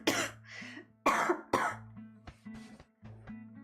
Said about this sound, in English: No, I need to do a big cough.